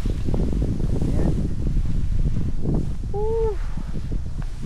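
Steady wind gusting across an open orange farm in Taiwan, a broad continuous rush buffeting the microphone throughout, with faint brief tonal sounds in the background.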